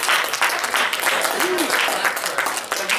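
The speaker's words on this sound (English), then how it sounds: "how about a round of applause for yourself?" A crowd applauds steadily in an indoor gathering, a dense wash of clapping that continues throughout, with voices mixed in.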